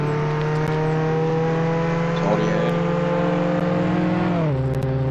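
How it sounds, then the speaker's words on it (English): Lamborghini in the Roblox Jailbreak game, a loud steady synthetic engine drone held at one pitch before dropping as it slows, with a voice talking over it. "you just drove up in a Lambo where you're overpowered"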